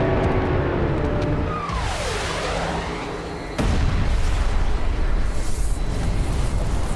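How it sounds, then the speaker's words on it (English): Asteroid impact explosion in a documentary sound design: a rising, sweeping roar gives way to a sudden loud boom near midway, followed by a sustained heavy rumbling blast that fills the rest of the clip. "The asteroid hits with an explosive force of 100 trillion metric tons"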